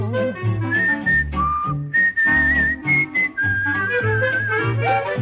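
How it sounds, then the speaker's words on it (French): Melodic whistling of a cheerful tune over a band accompaniment in a Gillette razor jingle, the whistle loud and continuous for several seconds, with no talking. "Chaque matin, je siffle en me rasant."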